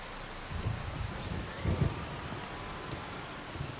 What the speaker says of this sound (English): it's just nice when you hear the storms.